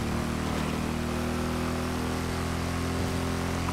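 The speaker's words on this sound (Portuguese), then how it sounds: "Ou essa moto tá um pouco alta, né?" A steady, droning motorcycle engine in GTA 5 hums continuously at a constant pitch, loud and close, with no voices over it.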